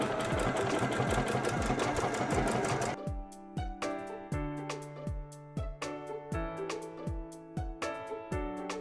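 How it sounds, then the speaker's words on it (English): A sewing machine stitches a quilt across its seams, first in a fast dense whir, then slowing to a steady, evenly spaced thumping of needle strokes, close and alone. "I'm going to continue sewing with this."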